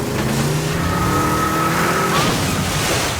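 A tow truck shoves another vehicle away, its engine straining in one loud, continuous roar that rises in pitch and seems to carry a faint tire squeal, with no voices.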